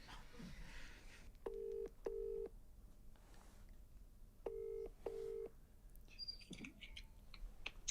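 Four short bursts of telephone keypad tones, in two quick pairs, then quiet room noise with a faint rustle near the end.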